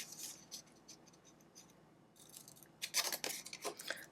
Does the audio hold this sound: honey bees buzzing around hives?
no